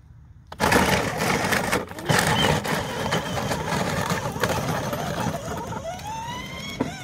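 A 12-volt Power Wheels ride-on toy car, converted with dual motors, drives forward in one-wheel drive, giving a steady whirring electric motor drone with gravel-like crunching from the wheels that continues throughout.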